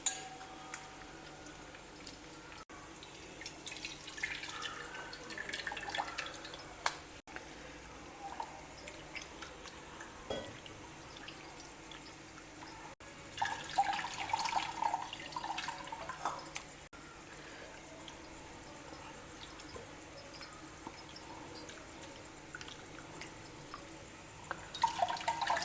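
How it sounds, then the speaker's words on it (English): Soaked tamarind is squeezed and mashed by hand in a bowl of water to draw out its juice, giving soft wet squelches, drips and occasional clinks of a vessel, close and fairly quiet with no speech. "Now we will extract the juice."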